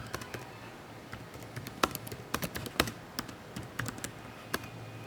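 Fingers type an address on a computer keyboard, an irregular run of close, crisp key taps over about five seconds with short pauses between bursts.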